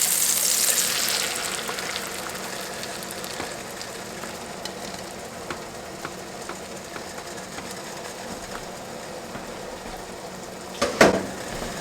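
Eggs, onions and peppers frying in a pan, a steady close sizzle throughout with a brief clatter near the end.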